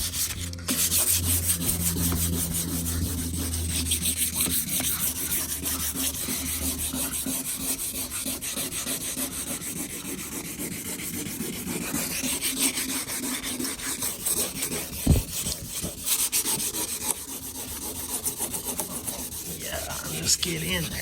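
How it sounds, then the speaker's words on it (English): New car paint on a JDM WRX-swapped GF8 Subaru Impreza being wet sanded by hand with 1000 grit sandpaper, producing a continuous close, harsh rasping scrape that runs steadily with no talking. "I haven't done anything to this paint other than try to touch it with this 1000 grit sandpaper."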